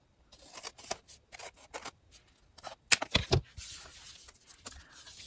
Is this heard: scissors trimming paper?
yes